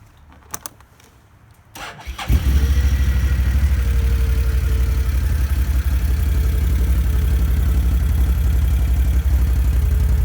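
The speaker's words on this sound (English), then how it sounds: "800cc V-twin motor. Start this up for you." A 2014 Can-Am Outlander MAX 800R XT ATV with an 800cc V-twin cranks briefly after a few quiet clicks, then catches and settles into a loud, steady, close-up idle that runs to the end.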